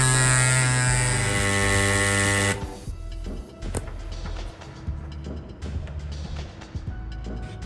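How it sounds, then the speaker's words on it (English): A small electric pump inflates a bicycle tire, giving a loud, steady buzzing drone for a couple of seconds before it cuts off, followed by quieter handling noises and faint clicks nearby. "Next up, the electric pump I never thought I needed."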